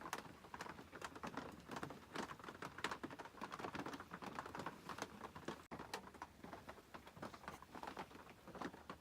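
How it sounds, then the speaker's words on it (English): Steady rain pattering on a campsite in the early morning after a night-long downpour, a dense, continuous patter of drops close by with no talking. "It has been raining all night long."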